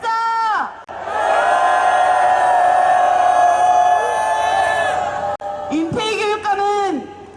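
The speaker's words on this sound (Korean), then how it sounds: "힘차게 함성 한번 외치겠습니다" A protest crowd at a Gyeonggi-do rally against low-price bidding for school meal ingredients lets out a loud, sustained collective roar for several seconds after a leader calls for it, with shouted call-and-response slogans before and after.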